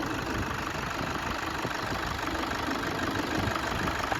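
A Toyota Innova engine idling smoothly, a steady, even hum close by with no voices over it.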